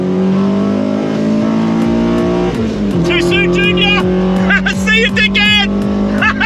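Honda EK Civic with a B16A VTEC engine racing on a track, loud sustained engine drone climbing through revs with gear-change dips, while people shout excitedly over it.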